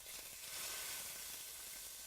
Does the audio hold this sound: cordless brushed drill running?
no